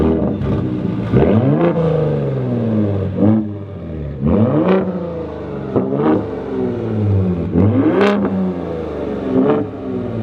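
Ford Raptor R pickup truck engine revving hard from inside the cab, about half a dozen rising blips that climb and fall back to a deep idle between each.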